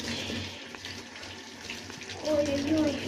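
Tap water runs steadily over a dog's leash as it is washed in a sink. The low rush grows fuller toward the end, and a voice talks over it.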